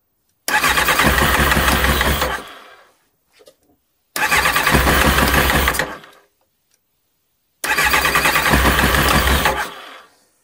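A Kawasaki ZX9R motorcycle on choke cranks over in three loud, close bursts of about two seconds each, separated by silence, with the engine never quite catching.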